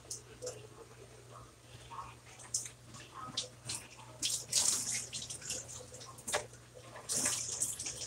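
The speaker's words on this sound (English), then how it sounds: "you want to use cool water when you're washing your bundles." Cool water runs steadily from a tap over hair bundles being washed, with splashing and wet handling noises that get louder toward the end, and a low steady hum underneath.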